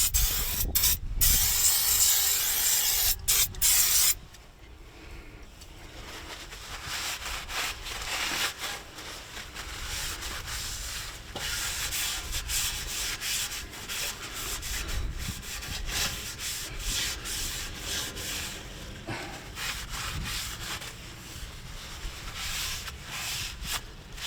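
Rear brake disc from a Range Rover L322 being cleaned up, with steady close rubbing and scrubbing against the metal, preceded by a few short sharp sprays.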